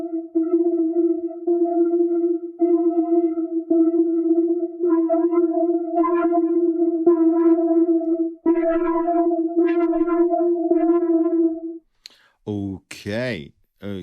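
A Nikolozi Mela 3 synthesizer plays a sustained tone with a distortion effect, a steady held note with shifting upper overtones for about twelve seconds, then a few brief swept sounds follow.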